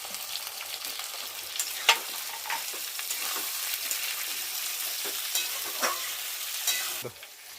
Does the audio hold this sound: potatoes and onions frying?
yes